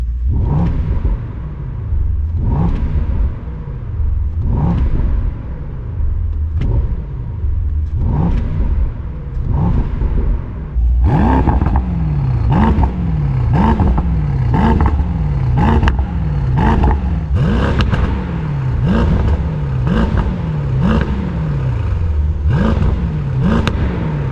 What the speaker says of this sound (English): Before we start the drive, let me give you a sound check. Listen to this.